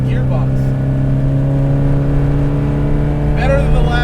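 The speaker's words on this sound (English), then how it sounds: "going through the gears is really satisfying in this car." Modified Datsun 510 wagon engine pulling hard through the gears, a loud, steady, close engine drone held throughout with brief changes at the start and near the end.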